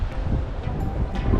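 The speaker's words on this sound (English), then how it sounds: "I'll try and keep the microphone out of the wind" Wind buffets a microphone on open sand flats near Brisbane during a flathead fishing trip, a steady low rumbling roar with gusty swells throughout, loud and close, with no voices.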